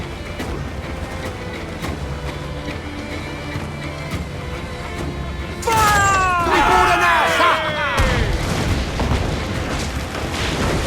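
Naval cannon fire during a sea battle in the pirate game Assassin's Creed 4 Black Flag, with heavy booms and crashing debris over a constant rumble of wind and waves, while voices shout in the background.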